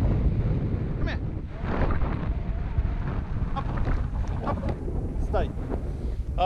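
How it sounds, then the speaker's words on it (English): Strong wind buffets the microphone on Hallin Fell, a constant low roar with gusty surges, and a voice speaks briefly over it. "Wind's coming in."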